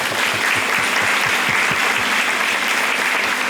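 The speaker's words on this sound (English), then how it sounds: "So let's give them a round of applause." An audience at a county fair queen contest claps steadily, a dense, fairly close wash of hand claps with a few louder individual claps standing out, running evenly throughout without speech.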